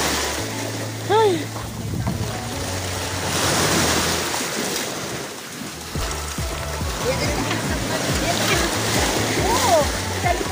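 Ocean waves wash and rumble amid gusty wind at Puka Beach, Boracay Island, with voices talking and shouting over the surf.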